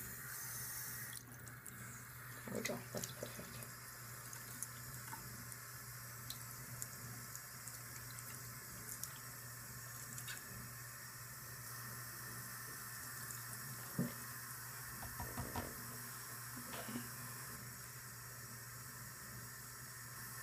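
Hot water runs from a tap into a sink in a steady, soft stream with occasional splashes and drips, and a person speaks briefly partway through.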